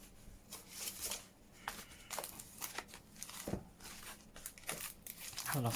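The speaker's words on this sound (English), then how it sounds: "I love these with the paper inside. It sounds absolutely amazing." Paper stuffed inside craft packaging crinkles and rustles up close in a string of irregular bursts, with a few sharper crackles standing out, while quiet talk runs softly underneath.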